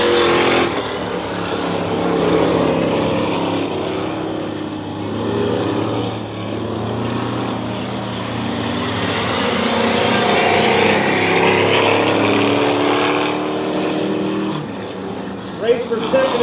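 Dirt track race cars roar around an oval at Dirtona Raceway, a dense continuous engine drone swelling and fading as the pack passes, loud and sustained throughout.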